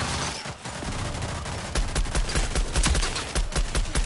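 Rapid gunfire in the shooter video game Rogue Company, loud and dense, with bursts of automatic shots and sharp individual cracks packed closely together throughout.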